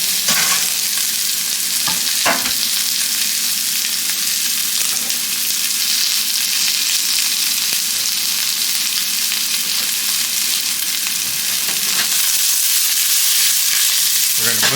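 Onion and shallot sizzle steadily in a hot pan for shrimp and polenta, a continuous bright frying hiss with a few louder stirring scrapes near the start and near the end.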